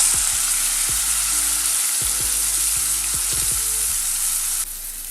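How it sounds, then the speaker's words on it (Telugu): Marinated chicken hits hot oil flavoured with cinnamon and shahjeera, giving a loud continuous sizzle with several sharp clatters and knocks from the pan before the frying noise drops slightly near the end. "ఇప్పుడు స్టవ్ పైన ప్యాన్ పెట్టి ఆయిల్ వేసి ఇందులో కొంచెం దాల్చిన చెక్క, షాజీరా వేసి ఇప్పుడు ఇందులో మ్యారినేట్ చేసి పెట్టుకున్న చికెన్ని వేసుకోవాలి."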